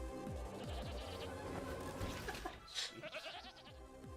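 Sheep bleating in an animated film, several wavering cries close together amid a busy soundtrack of music and effects.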